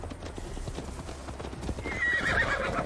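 Horse hooves clip-clop steadily at a gallop as a mount is ridden in Assassin's Creed Valhalla, with a whinny rising near the end over continuous game ambience.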